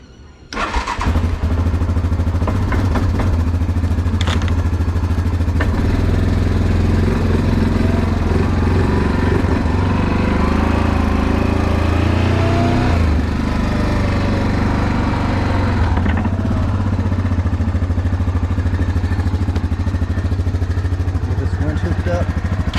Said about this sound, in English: use the old Grizzly to get that mower pulled around